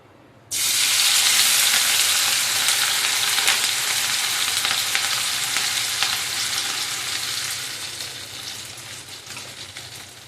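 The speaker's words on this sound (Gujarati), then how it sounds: "તેમાં પહેલાં આપણે આદુ મરચાંની પેસ્ટ મેં આ ચોપરમાં ચોપ કરી લીધી છે એ એડ કરશું તેલમાં" Ginger-chili paste dropped into hot oil for sabudana khichdi: an abrupt loud hiss bursts in after a brief quiet start, then a dense sizzle with faint stirring that gradually fades but stays strong and close.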